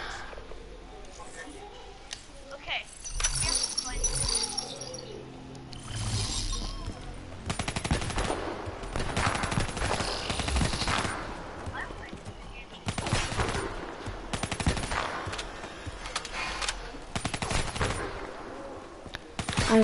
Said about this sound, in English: He's just shooting in the air and it's counting as a kill.